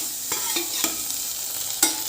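Tomatoes sizzle gently in a hot pan while a spoon scrapes and stirs, close by, with a few soft clicks and no voices.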